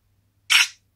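A single short shutter click from a Motorola Pro+ smartphone camera, close and crisp against near silence.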